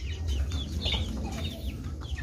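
Young Rhode Island Red chickens, about two months old and just let out of their cage, cluck close by in short, overlapping calls over a brief moment.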